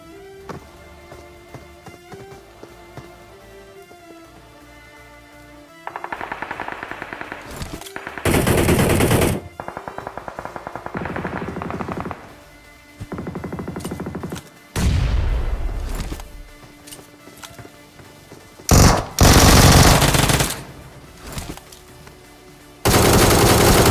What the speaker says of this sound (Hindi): अब यहाँ पे मैं एक ग्रेनेड डालता हूँ